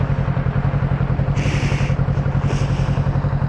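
Steady engine drone of a newer motorcycle being ridden, a continuous pulsing rumble with wind noise, loud and close throughout with no talk.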